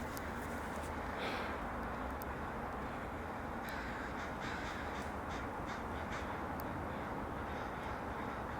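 Crows caw intermittently by Lake Washington, a few scattered calls at middle distance over a constant loud wash of wind or traffic noise.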